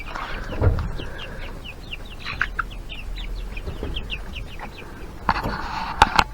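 White chicks peep and cluck softly around a feeding spot, with scattered short chirps and occasional light tapping, fairly close and steady.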